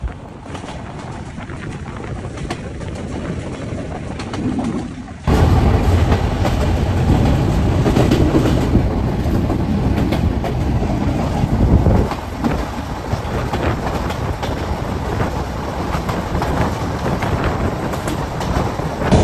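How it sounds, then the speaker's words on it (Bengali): Ruposhi Bangla Express passenger train running on rails near Jhikargachha station, a loud, steady rumble from on board with rhythmic clickety-clack of wheels over rail joints, rising abruptly after a few seconds as if a window or door opens. "আর আমাদের ট্রেন এখন পাস করছে ঝিকরগাছা রেলওয়ে স্টেশন"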